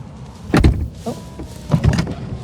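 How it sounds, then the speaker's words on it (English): Door of a Bentley Continental GT pulled shut by its soft-close mechanism: two close whirring, thudding bursts about a second apart, with a quieter mechanical hum between them. "So, I'm going to close the door"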